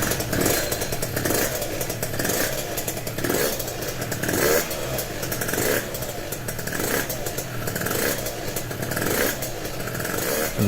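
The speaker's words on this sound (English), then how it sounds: "a startup clip the first time I started it with the exhaust on it" A Honda AF18 Dio scooter with a new Stage6 R/T95 exhaust revs and idles loudly with a rough, sputtering exhaust, rising and falling in steady pulses throughout.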